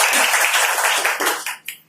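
Audience applause at a Hindi-language talk on health, dense steady clapping that carries for over a second before thinning into a few scattered claps and fading out, with no speech over it.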